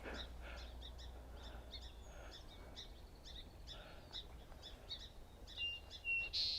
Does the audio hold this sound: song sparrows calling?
yes